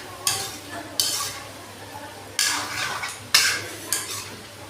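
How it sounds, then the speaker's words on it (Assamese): Goat mutton stirred in a pan for an Assamese village-style butter mutton gravy, a spoon scraping in several short, close swishes with a light sizzle between strokes. "এতিয়া মাংসটো মই লৰাই দিওঁ"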